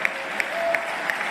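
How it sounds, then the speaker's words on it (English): An audience applauds at a talk by a former CIA director, with steady dense clapping filling the room and a few sharper claps standing out at regular intervals, moderately loud and without any speech over it. "people clap and applaud"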